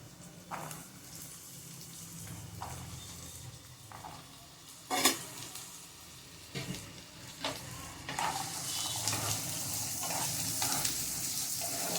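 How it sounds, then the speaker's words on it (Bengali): Potatoes in hot oil in a wok make a low sizzle, broken by occasional clatters and scrapes of stirring, with the frying growing louder and brighter toward the end. "তেলটা গরম হলে আমি এর মধ্যে আলুগুলো দিয়ে একটু ভালো করে ভাজবো"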